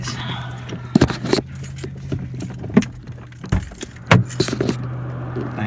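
A bunch of keys jangles near a parked car, several sharp metallic rattles in irregular bursts over a steady low engine hum, with faint voices in the background.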